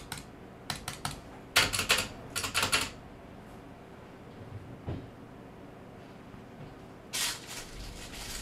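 A computer mouse clicks in quick clustered bursts, close up, separated by stretches of quiet room noise.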